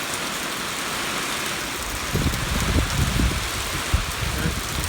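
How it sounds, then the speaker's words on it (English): Heavy overnight rain falls steadily on a warm night, a loud continuous hiss of drops on surfaces, growing a little rougher and more pattering partway through, with no voices. "It is raining off and on."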